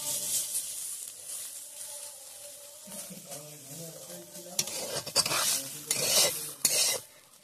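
Gima greens and potatoes frying in a pan sizzle while a spatula stirs and scrapes them, quiet at first and then busier with loud scraping strokes and clinks near the end.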